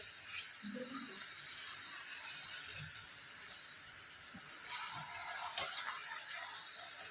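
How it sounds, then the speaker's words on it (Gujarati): Quiet stirring of radish greens in a hot pan over high flame, a soft steady sizzle with faint scraping and one sharp clink near the end. "હવે આપણે તેને પહેલાંની જેમ આ ભાજીને બી હલાવીશું"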